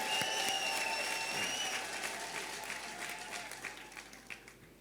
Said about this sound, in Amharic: አንድ እግዚአብሔርን አጨብጭቡና አመስግኑ